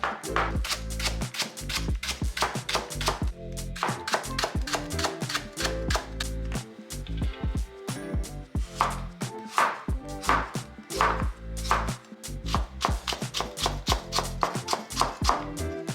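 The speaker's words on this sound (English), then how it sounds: "thinly sliced shiitake mushrooms, leeks, ginger, and garlic" Knife slicing shiitake mushrooms, leeks, ginger and garlic on a cutting board for a Japanese winter meal, with rapid, close, crisp chopping taps that come in quick runs and brief pauses.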